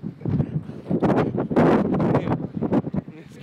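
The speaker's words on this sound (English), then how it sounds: "Really windy." Strong gusting wind during a dust storm (haboob) in Phoenix buffets the microphone with loud, uneven roaring rumbles that rise and fall throughout.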